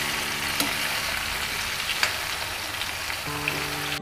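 Ridge gourd curry with turmeric frying in a pan, a steady close crackling sizzle like rain on a surface, with a couple of faint spatula knocks as it is mixed; no voices.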